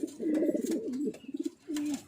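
A resting racing pigeon coos in a series of soft, low, throaty calls, close and clear, with short pauses between phrases and a few faint background chirps.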